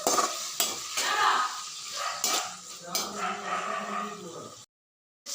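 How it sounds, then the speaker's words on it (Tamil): A spoon stirs star fruit pickle in a pan with steady frying hiss and repeated scraping strokes close up, ending in sudden silence. "ஸ்டார் புளிச்சிக்காவை போட்டு கிண்டி"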